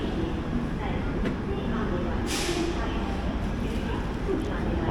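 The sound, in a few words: Mysuru-Shirdi Express train running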